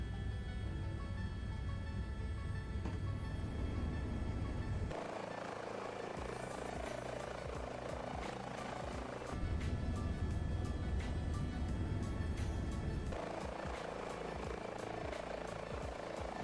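An H145 helicopter in a flight simulator game settles to flight idle, its turbine engine giving a loud continuous whine and rotor drone that shifts in character a few times, with no talking.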